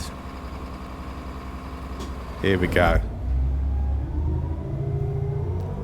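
A city bus in the Omsi 2 simulator on a London route rumbles at low idle and pulls away with rising engine drone, a brief clatter and hiss midway, while someone talks briefly over it.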